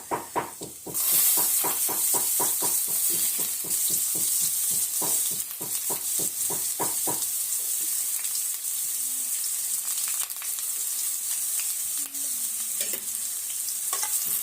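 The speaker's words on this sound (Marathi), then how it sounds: "कांदा व्यवस्थित परतून घेऊ कांदा पूर्णपणे भाजायचा नाही फक्त हलका परतून घ्यायचा आहे" Onion sizzling in hot oil with garlic and curry leaves for a karela sabji, with about a dozen rhythmic spatula scrapes for the first seven seconds, then a steady close frying hiss.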